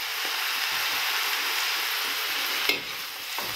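Mustard greens stirred in a hot pan after onion and garlic, giving a steady loud sizzle throughout with a few scraping clicks of the utensil near the end.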